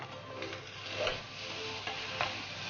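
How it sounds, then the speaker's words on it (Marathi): Zunka, a Khandeshi gram flour dish, is stirred in a pan, giving quiet scraping strokes over a low, steady sizzle with a few sharper clinks near the end. "आपण आता मस्तपैकी हलवून घेऊया एक जीव करून घेऊया"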